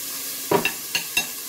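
Food stirred in a pan with a utensil: four short, distinct scraping strokes, close and fairly loud, over a faint sizzle, with no talking.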